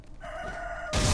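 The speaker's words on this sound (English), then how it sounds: "kill this chicken." A chicken in a video game lets out a single drawn-out, crowing squawk, close and fairly loud, followed by a sudden burst of hit or crash noise.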